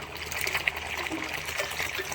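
A washing machine drains water after washing a heavy blanket, a steady trickling and gushing, continuous watery rush with no voices.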